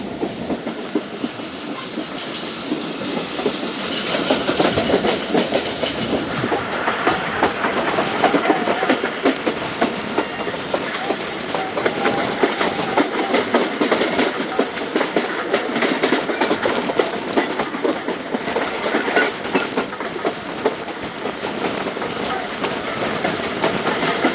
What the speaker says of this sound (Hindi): नहीं तो 90 किलोमीटर की स्पीड से चल रही थी ट्रेन।